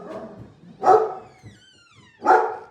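Dogs bark indoors in a barndominium home with a stone fireplace and tile floor, two loud close bursts separated by a short pause, with faint background sound between.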